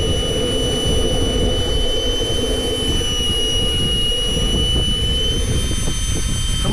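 An ACEx-80 jet turbine spins up on a Hummingbird model jet, producing a loud, steady roar with a sustained high whine close by and no voices over it.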